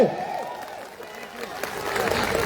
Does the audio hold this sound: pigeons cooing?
no